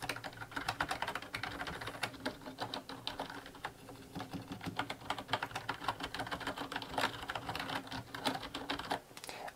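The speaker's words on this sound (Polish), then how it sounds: "posłuchajcie sobie, jak te klawisze pracują." Keys of a Hama uRage membrane keyboard clatter in quick, irregular typing bursts, soft and fairly quiet, close up and alone throughout.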